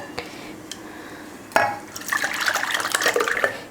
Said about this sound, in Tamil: இப்போ தக்காளி வேக வச்ச தண்ணியெல்லாம் வேஸ்ட் பண்ணாமல் அதுலேயே தான் ஊற்றிக்குவோம் நம்ம.